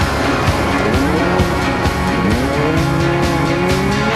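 A rally car at the 2004 Lurgan Park Rally takes a tight hairpin and returns onto tarmac, its engine loud and near, revs rising and falling through gear changes, with tyre squeal and a continuous roar and no voices.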